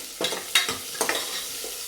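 A spoon scrapes and stirs sizzling egg and chicken curry ingredients in a hot pan, with about four distinct close stirring strokes over a soft continuous fry.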